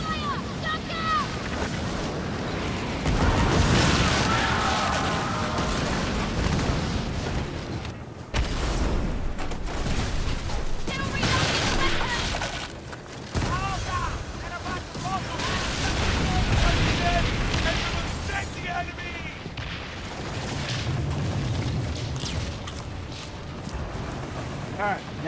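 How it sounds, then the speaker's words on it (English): Enemy ship cannon fire and explosions during a naval battle in the video game Skull and Bones, with heavy booms rolling one after another in several bursts and brief lulls between them. "Enemy fire! Look out!"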